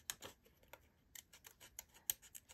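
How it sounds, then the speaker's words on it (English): Small curved Pergamano craft scissors snip paper in a quick series of crisp, quiet cuts, close up and with no voices. "I'm using my Pergamano scissors."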